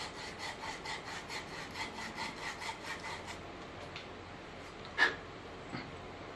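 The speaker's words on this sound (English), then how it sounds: "I've got a piece of copper pipe here that's a little bit dirty, so I'm just going to use my sandpaper to clean it" Sandpaper rubbed back and forth over a dirty copper pipe before soldering, a steady rhythmic scratching of about a dozen short strokes, then a brief sharper knock.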